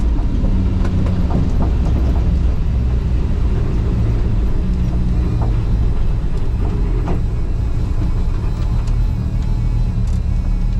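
Turbocharged five-cylinder race car on track: a loud, continuous engine roar heard from inside, with a dense low rumble and steady drone that never lets up, and no voices.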